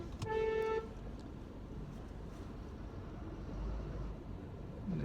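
A bus honks once, loud and close, with a harmonic blare at the start, then its engine rumbles steadily as it passes by on the road.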